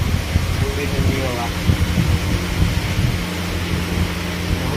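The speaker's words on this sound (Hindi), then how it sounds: "सो फाइनली मेरा कूलर चालू हो गया," A household air cooler runs with a steady, loud broadband whoosh and low mechanical rumble, filling the room with continuous noise and no talking.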